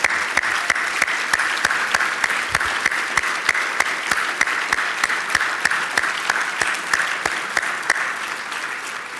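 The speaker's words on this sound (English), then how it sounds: "Please give them a round of applause and thanks." Sustained audience applause at an Urban League gathering, a dense, even wash of clapping with sharp individual claps standing out at a steady pace, almost no talk.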